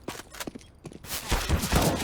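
Rapid Desert Eagle pistol shots in a Counter-Strike match, a dense fusillade of overlapping gunfire bursts with a loud sustained volley toward the end.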